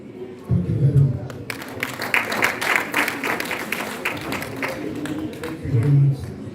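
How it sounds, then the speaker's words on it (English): Audience applause at an international paper, publishing and printing expo, a scattered crowd clapping at moderate loudness with low voices and murmuring underneath. "Will we give him another sound of applause?"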